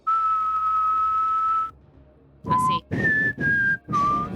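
A person whistles in imitation of a whistle heard during a paranormal anecdote: one long steady note, a pause, then four shorter clear whistled notes. The sound is close and loud, with a brief spoken word.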